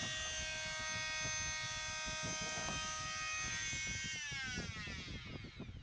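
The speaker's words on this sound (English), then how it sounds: "that brings us to the grinding portion of this preparation process" A power grinder works on a boat transom to prepare it for fiberglass, a loud steady high-pitched whine with rough gritty scraping underneath, the pitch sliding as the tool spins down near the end.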